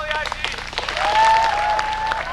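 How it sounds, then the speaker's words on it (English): Campers at a summer camp break into applause, a dense burst of clapping from a crowd while a sustained whistle-like tone rises through the middle. "let's everybody give a nice round of applause to all the"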